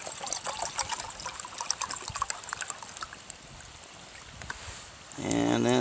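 Water splashes and trickles steadily into a pot for a pocket cooker on a wood stove, close and moderately loud, with a voice starting at the end.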